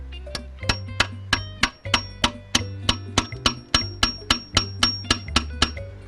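A hammer strikes metal parts during repair work on a BMW E39, about twenty sharp ringing clangs in a fast, fairly even rhythm, close and loud, with no talking.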